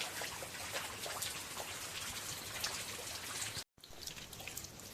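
Steady monsoon rain pouring down on a farm during field work in Gujarat, a dense, even hiss of drops on surfaces throughout, with a brief dropout near the end.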